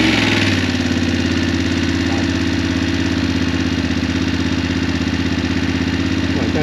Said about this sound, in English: that is one seriously loud startup